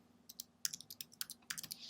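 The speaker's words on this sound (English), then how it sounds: "So you come to Google and you type in resumedone." Typing on a computer keyboard, close and fairly quiet: a quick, irregular patter of key clicks in short bursts with brief pauses.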